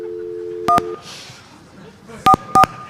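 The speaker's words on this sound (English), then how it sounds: "I'll dial the number." Telephone keypad tones beep as a number is dialed: two quick tones, a pause with faint background, then three more in quick succession.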